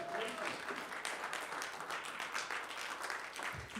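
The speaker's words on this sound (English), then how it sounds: "let's give him another round of applause." Audience applause for a young cellist at a music benefit concert, a full, steady clatter of many hands clapping in a hall, with faint voices mixed in.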